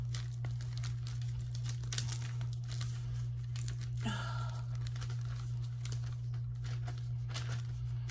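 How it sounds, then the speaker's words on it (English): A paper page is flipped over on a drawing pad, with crinkling and rustling throughout and one clear sweeping turn midway, quiet over a steady background hum. "I'm gonna flip over the page so that I can actually draw."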